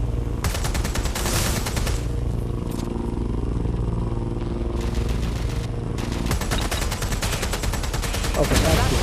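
Machine gun fire in Watch Dogs Legion rattles in long rapid bursts separated by short pauses, loud and close over a humming background.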